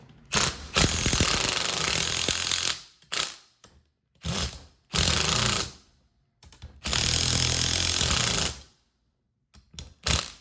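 Screws are tightened on a drill mount with a power driver, heard as several close bursts of whirring and ratcheting separated by short pauses.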